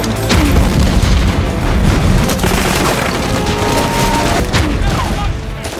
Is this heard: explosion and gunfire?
yes